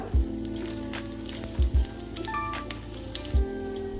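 Cumin seeds sizzle steadily in hot oil with garlic in a pan, a continuous crackling hiss with a few soft thumps and clinks of utensils along the way; no one speaks.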